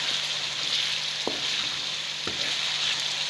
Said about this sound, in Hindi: 2 मिनट इसको भूनने के बाद इसके अंदर हम अब गोश्त शामिल कर देंगे।